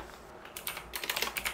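Keys tapped on a computer keyboard, including the F2 key, a quiet patter of clicks that starts sparse and quickens into a brisk run of close typing.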